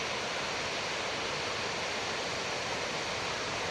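Baabijhari waterfall near Kerameri, a constant broadband roar of falling water, steady and even throughout with no voices.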